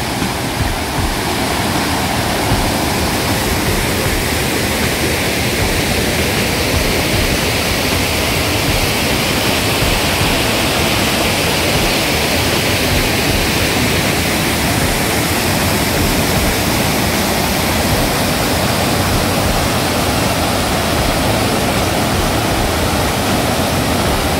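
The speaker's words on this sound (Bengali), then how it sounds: "এর পাশ দিয়ে একটা ছোট্ট ঝর্ণা" A small waterfall beside Apple Stone in Gorumara rushes steadily, a loud, close, unbroken wash of flowing water with no voices over it.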